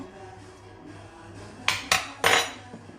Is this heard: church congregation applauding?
no